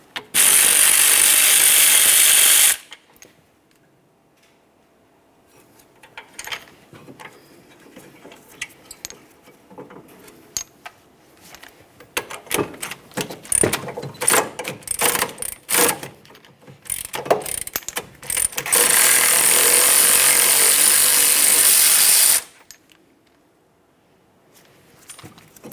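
Ratchet wrench cranking out a 17mm caliper bracket bolt on a 2012-2015 Honda Civic during a front brake job. There are two long, loud bursts of rapid clicking, with quieter handling clatter and metal clinks between them.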